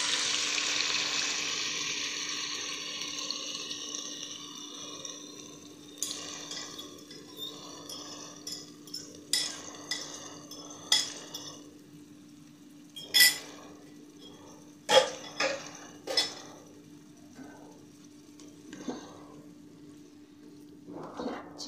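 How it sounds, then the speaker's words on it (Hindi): Vinegar-marinated chicken frying in a pan for shashlik gives a hissing sizzle at first that soon thins out, while sharp clinks of utensils and pan knocks punctuate the quieter stretch. "चिकन को हम 10 मिनट तक फ्राई करेंगे, यानी इसको पकने देंगे हम 3 टेबल स्पून में।"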